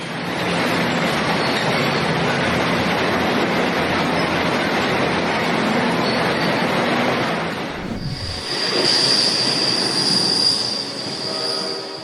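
Loud, sustained screech of train wheels squealing on the rails as a runaway train brakes, a constant grinding roar that shifts to a higher, thinner metallic squeal near the end.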